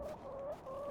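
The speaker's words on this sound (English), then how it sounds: "Rooster que eu não consigo pegar." Short, faint clucking from a rooster in The Excavation of Hob's Barrow video game, two drawn-out tonal calls in quick succession over a quiet background.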